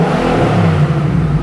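A Nissan Y62 Patrol's engine revs briefly, a loud, close, smooth mid-pitched surge with no talking over it.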